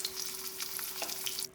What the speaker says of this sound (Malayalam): അപ്പോൾ ഏതായാലും മീൻ വറുക്കലുമായി.